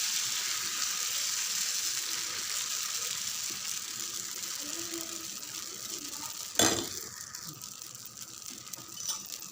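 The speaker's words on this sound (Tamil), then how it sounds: "நம்ம அப்படியே தோசை ஊற்றிடலாம்" Dosa batter poured and spread across a hot pan, giving a steady hiss of sizzling throughout, with one brief louder clatter partway through and no talking.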